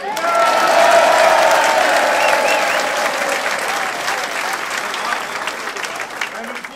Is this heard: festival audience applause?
yes